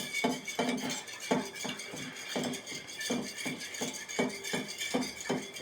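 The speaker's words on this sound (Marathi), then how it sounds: "याला असं चांगलं हलवून घ्यायचं" A spoon stirring a mixture of ginger, garlic, lemon, apple vinegar and honey, steady repeated light clinks and scrapes against the container at close range.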